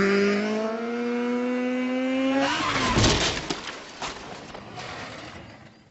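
A motorcycle engine climbs through rising revs with a whining tone, then a sharp burst of roaring noise as the motorcycle speeds away and fades.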